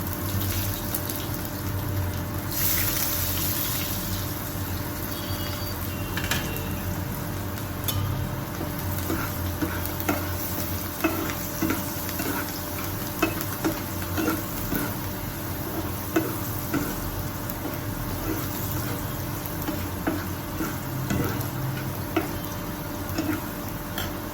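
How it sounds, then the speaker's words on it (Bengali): Dal frying in hot oil with a tempering of mustard seeds and dried red chilli, a continuous close sizzle with scattered pops and scraping stirs over about twenty-four seconds, no one speaking. "ডালটা একটু ভাজা হবে।"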